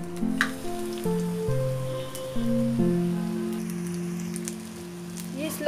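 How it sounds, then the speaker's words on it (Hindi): A coated bread snack fries in oil over a slow flame, making a soft, steady crackle and spatter beneath a gentle stepped melody playing in the background. "इसको फ्राई कर देते"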